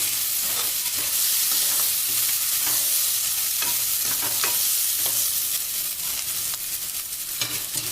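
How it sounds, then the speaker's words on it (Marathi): Moong dal is sautéed in a pan with a continuous oily sizzle and occasional scrapes and clinks of a stirring spoon. There is no talking. "ही अशा प्रकारे मुगाची डाळ आपण यामध्ये परतून घेणार आहोत"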